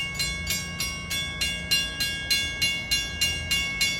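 Westbound Patchogue–Babylon train 2771 on the Montauk Branch passes Irish Lane in East Islip, its wheels beating out a steady, even clickety-clack of rail joints close by and loud throughout.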